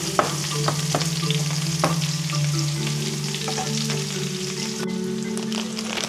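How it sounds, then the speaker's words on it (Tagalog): Garlic and onion sautéing together with chicken hearts and gizzards, a steady close frying sizzle with occasional spoon scrapes and clicks against the pan, no voices. "pagsasabayin ko na yung bawang sibuyas natin. Tapos sigigisa natin siya kasama yung ating puso tsaka balunan."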